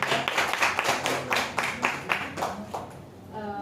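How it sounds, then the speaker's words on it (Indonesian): A classroom gives a short round of clapping for a student during a microteaching lesson, with several sharp claps in an uneven rhythm that die away after about three seconds. "Boleh tepuk tangannya untuk Salsa."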